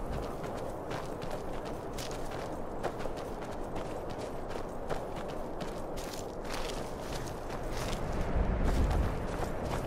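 Horse hooves clip-clop steadily on the ground in the Skyrim video game, a continuous walking rhythm over a dense, noisy background, loudest toward the end.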